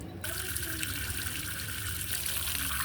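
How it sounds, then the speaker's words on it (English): Water gushes steadily and loudly into a sailboat, a constant rushing pour with no pauses, close by. "Wow, that's a lot of water."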